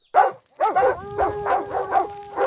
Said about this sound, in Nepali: अनावश्यक भुकाइ बन्द।